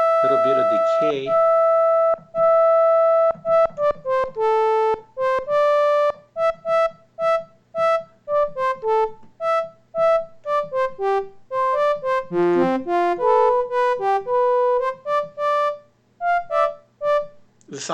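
Analog synthesizer playing a square wave with added harmonics and a short decay, a sequence of bright, buzzy tones stepping through a melody, each note cut off quickly, heard alone.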